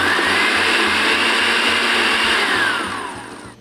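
A blender pureeing cooked pumpkin runs steadily at high speed, a loud continuous whir with a pulsing low churn, then winds down near the end.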